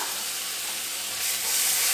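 Ginger-garlic paste fries in hot oil in a pan for pav bhaji, giving a loud, continuous bright sizzle that hisses evenly close up and grows slightly stronger toward the end, with no talking.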